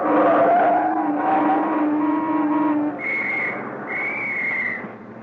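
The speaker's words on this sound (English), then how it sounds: "Were you whistling at me, officer?" Two sustained shrill police whistle blasts sound one after another, loud and near, over the hum of passing traffic.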